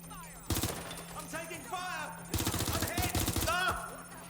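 Gunfire combat in the video game Watch Dogs Legion: two bursts of rapid automatic shots, the second longer, with someone talking over the shooting.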